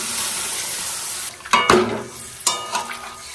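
Boiled vegetables and fish tipped into a spice paste frying in a pan, a steady sizzle broken by two sharp bursts of hissing and clattering stirs as the pieces land, with no talking.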